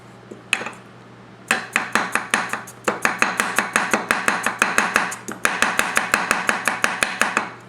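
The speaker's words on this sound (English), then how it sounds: "We'll go ahead and chop through this carrot since we know you like to see speed chopping." A Tojiro ITK 240mm kiritsuke knife speed-chops a carrot on a board, giving a fast, even run of sharp, close knocks after a few scattered opening cuts, with a faint steady hum beneath.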